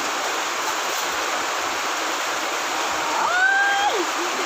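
Steady rushing water fills the clip as water is poured while making lumpia, like a continuous pour or running tap, with a brief high whistle-like tone near the end.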